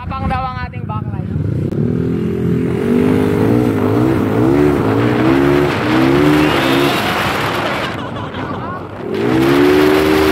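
Modified Yamaha Mio Sporty scooter engine, 225cc liquid-cooled with 66mm bore, revving loud and close in repeated rising and falling bursts, dropping briefly before roaring up again.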